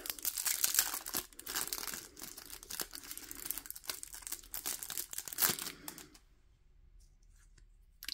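Plastic wrapping crinkles and rustles steadily as it is peeled off a cross stitch kit box, a close, busy run of crackles that lasts about six seconds before going nearly silent.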